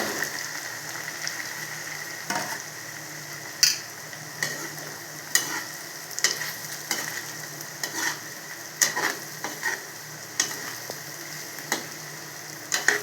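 Masala-coated taro root (colocasia) fries in oil on a low flame, giving a soft, continuous sizzle broken by scattered scraping and clacking strokes from stirring.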